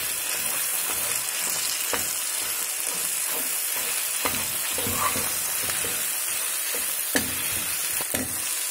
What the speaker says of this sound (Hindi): और अब हम इसके अंदर डालने वाले हैं बथुआ।